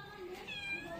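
Cat meowing up a tree in a short drawn-out call, faint and distant, with voices talking over it.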